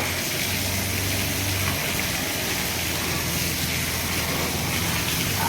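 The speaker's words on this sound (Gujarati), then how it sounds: "હવે પાણી ચાલુ કરી દીધું છે જો" Water runs steadily from a hose onto freshly laid tile mortar on a construction job, a constant gushing wash with a brief low hum near the start.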